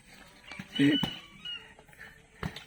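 A pet chicken, left battered after fighting with a duck, gives a short, close squawk or cluck, with a couple of fainter calls afterward and someone talking nearby.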